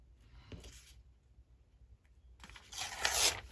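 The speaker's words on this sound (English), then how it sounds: "So let's just tear this" Paper for a Midori-style journal is torn by hand in two short, close ripping bursts, the second louder and longer, with quiet handling sounds between them.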